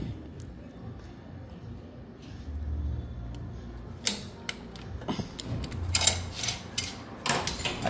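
A long 15 mm socket on a ratchet wrench tightens the timing belt tensioner of a Fiat Fire 1.0 engine, giving quiet, close clicks and short metallic ratcheting bursts that speed up toward the end.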